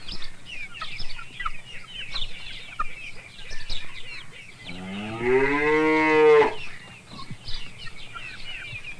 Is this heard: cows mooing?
yes